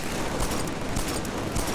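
Gunfire from a revolver in the video game Killzone 3, loud steady battle noise punctuated by a few distinct sharp shots at uneven intervals.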